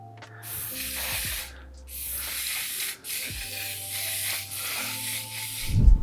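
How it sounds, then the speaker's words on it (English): One Side Beauty makeup setting spray misted onto a face in several hissing bursts close by, with a soft rustle at the end. "I'm gonna set the makeup with a new setting spray from One Side Beauty."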